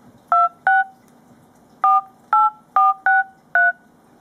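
Dialing tones from a Motorola Triumph phone's external speaker: seven clear, loud keypad beeps, two quick ones, a pause, then five in a steady rhythm, over faint background hum.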